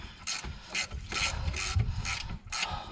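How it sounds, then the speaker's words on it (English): An 18mm ratchet spanner clicks in short bursts while working on the rear brake caliper bracket bolts of a 2009 Mercedes C200, about five quick ratcheting rasps spaced roughly half a second apart, close and crisp. "So I've got my 18mm ratchet spanner."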